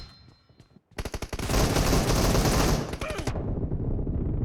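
Rapid automatic gunfire in PUBG, a loud sustained burst of closely spaced shots lasting about two seconds after a brief quiet lead-in, then trailing off into lingering echo.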